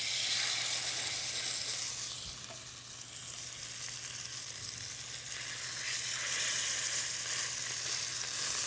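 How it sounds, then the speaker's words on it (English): Filet mignon steaks sear in a hot pan, giving a loud, continuous sizzle and crackle of frying that fades slightly in the middle and then swells again. "I love the sound of that sizzle."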